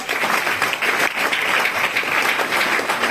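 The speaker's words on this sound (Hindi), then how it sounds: "उन दोनों के लिए जोरदार ताली।" Loud, sustained applause from a crowd, steady clapping filling the whole stretch without a break.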